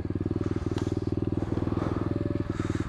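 A motorcycle engine revs steadily with a fast, even firing pulse, loud and close and holding throughout, with no talk over it.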